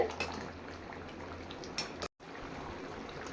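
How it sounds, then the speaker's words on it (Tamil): Crab curry bubbles and simmers in a pot, a soft, steady boiling hiss with faint pops, heard alone and quietly for a few seconds, cut by one brief silent gap. "நண்டு குழம்பு நல்லா வந்து கொதிச்சு வந்துருச்சு பாருங்க"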